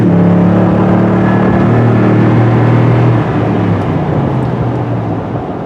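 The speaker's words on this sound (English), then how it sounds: "just smash the throttle down and away you go. Love that TRD exhaust." A 2017 Toyota Tundra TRD 4x4 V8 at full throttle through its TRD exhaust, a loud sustained roar with strong low harmonics that holds steady, then eases slightly as the pitch settles.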